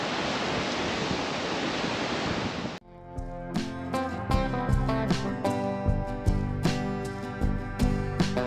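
Sea water by a sandy strip near pink salt pans gives a broad, steady rush of surf mixed with wind noise for a few seconds, then cuts to music.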